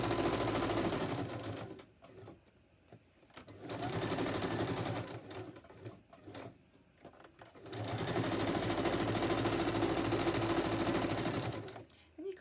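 A sewing machine runs in bursts of straight stitching on junk-journal paper ephemera, with a steady rapid mechanical whir. It stitches loudly for about two seconds, pauses, runs briefly again, then sews a longer stretch to the end.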